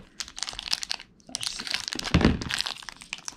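Crinkly plastic wrapping on Pokemon card packs, crunching and crackling in dense bursts up close, with a brief lull before another rustling stretch and a sharper crunch near the middle.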